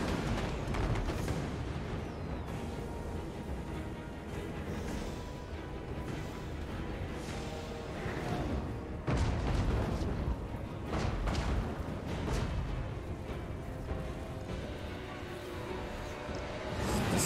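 Grand cannons firing against ogres in a video game battle, heard as a loud, continuous din of booming thuds and crashes that layer over each other throughout.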